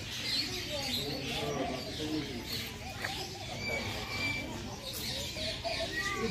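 Pigeons or doves coo softly in the bird garden of a zoo in the United Arab Emirates, with scattered chirps from other birds over a dull murmur of distant visitors.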